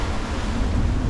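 Strong wind of roughly 22 to 30 knots blowing across the open sea off Martinique while sailing with reefed sails: a steady, loud, unbroken roar of wind and surf, with no voices.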